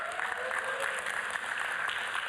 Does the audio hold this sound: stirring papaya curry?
no